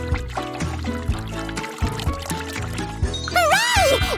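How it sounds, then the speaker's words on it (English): Water poured into a container during a kids' science experiment with water, ice and light, a steady pouring trickle under background music that ends in a rising, gurgling fill. "Now I'll add some water and let it all sit for a while."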